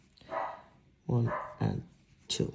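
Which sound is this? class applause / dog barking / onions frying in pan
dog barking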